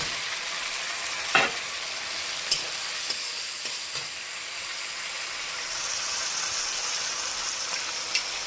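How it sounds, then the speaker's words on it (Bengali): Potatoes frying in cooked-down masala while being stirred, giving a continuous hiss of sizzling with a few sharp utensil scrapes and taps against the pan. "এই দেখুন, মশলাটা কষানো। আলুটা দিয়ে দেবে।"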